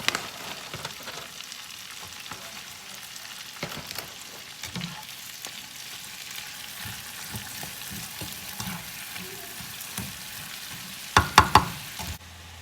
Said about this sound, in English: the spinach has been sauteing for around 3 minutes